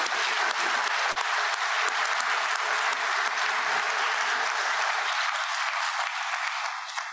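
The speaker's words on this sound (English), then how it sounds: "Let's give them a round of applause." Audience applause fills an auditorium after an evening talk on democracy and autocracy, a broad even wash of many hands clapping continuously at full strength, easing slightly toward the end.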